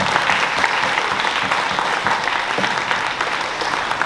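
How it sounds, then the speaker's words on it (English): Sustained applause from the audience at a Juniata College Diwali dinner, a thick wash of many hands clapping at a steady, even level throughout, with no voices standing out above it. "Another round of applause, please."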